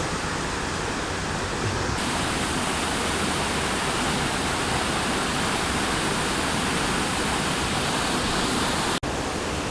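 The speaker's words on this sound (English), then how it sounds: "The waterfall understandably gets the most attention" Looking Glass Falls in North Carolina roars in a dense, constant rush of water, loud and close, with no other sounds over it.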